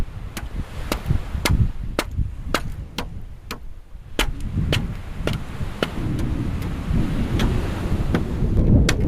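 Strong wind buffets a remote island on the Great Barrier Reef, a steady low gusting roar that swells and eases, with sharp scattered clicks and taps cutting through it. No voices.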